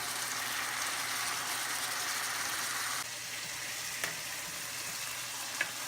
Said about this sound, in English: Now we stir it.